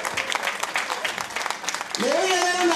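A small audience claps for a child at a kids' party show, a short burst of scattered applause that a voice quickly talks over.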